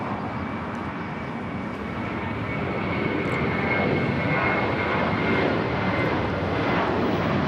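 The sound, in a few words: jet airliner taking off, JetBlue Airbus A321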